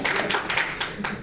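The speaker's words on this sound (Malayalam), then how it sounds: "ഇതൊക്കെ കൈയടിക്കാം." An audience at a film press meet breaks into brisk applause, several loud bursts of dense clapping in quick succession over a short stretch.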